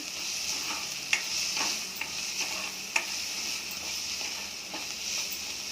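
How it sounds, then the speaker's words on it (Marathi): Red chili powder and turmeric sauté in hot oil for a cauliflower and potato dry curry, a soft continuous sizzle with occasional light spoon taps, fairly quiet. "लाल मिरची पावडर अर्धा चमचा हळद तर मसाले चांगले परतून घ्यायचे"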